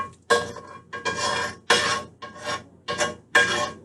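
Metal scraper grating across a tough Teflon pan to strip off leftover meat and blackened burnt bits, in six loud, close rasping strokes with short pauses between them.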